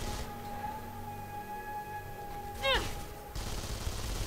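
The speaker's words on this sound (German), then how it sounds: "Irgendwas anderes schießt noch da." Gunfire in the video game Avatar: The Game, bursts of weapon fire crackling over a steady tonal hum of game music and ambience, with a sharp burst and a descending electronic sweep near the middle.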